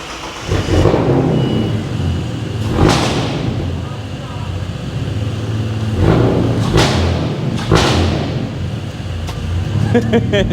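Ford BA Falcon drift car, left standing for months, roars to life and idles loudly, with sharp revving blips rising and falling throughout, close by and dominant.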